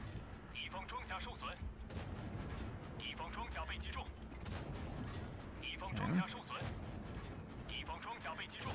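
A tank cannon fires in a video game: a few sharp booms stand out over a mechanical rumble, while a voice talks across much of the stretch.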